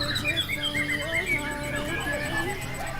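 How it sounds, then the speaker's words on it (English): Caged songbirds sing together at a bird-singing competition in Java, a busy overlapping chorus of chirps, trills and whistles, fairly close and continuous, with a faint murmur of voices underneath. "The birds sing for 7 minutes while judges rate their performances. They chirp and they croon"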